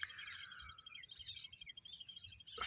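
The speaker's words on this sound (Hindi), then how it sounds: "ये सब पक्षी दिख जाते हैं तो थोड़ा अच्छा लगता है। और कानों में ध्वनि है ना, ये सुनकर बहुत ही अच्छा लगता है।" Birds singing outdoors, faint high chirps and warbling phrases in several short bursts over a quiet low rumble, with no voices.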